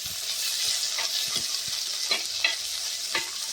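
Chopped small shallots hit hot oil in a pan for a Kerala-style catfish curry, giving a steady sizzle with several sharp stirring clicks and scrapes scattered through it, close and fairly loud.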